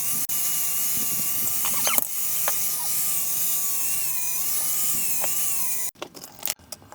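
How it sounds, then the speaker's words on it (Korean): A steady high-pitched angle grinder whine runs continuously while sanding wood, the pitch wavering slightly as it works against the surface, then cuts off into a few clattering knocks. "저는 샌딩기가 없어서 그냥 그라인더로 작업을 하고 있는데"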